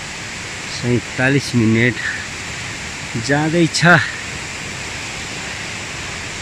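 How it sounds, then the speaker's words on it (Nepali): Chham river rushing beside a forest trail in the Mugu high valleys of Nepal: a steady broadband wash of flowing water runs throughout, with a person briefly talking over it. "छाम खोला बायाँपट्टि बगिराखेको छ"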